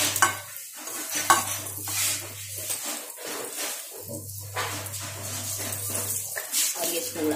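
Cumin seeds sizzle in hot oil in a home kitchen pan, a steady close crackling hiss with stirring scrapes over a low hum, continuing for about seven seconds with no one speaking.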